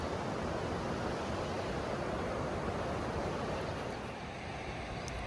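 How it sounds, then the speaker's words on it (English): Waterfall at Pedernales Falls State Park, a steady broadband rush of falling water heard from an overlook, constant and moderately faint with no voices. "Made it to the falls. Y'all can hear them in the background."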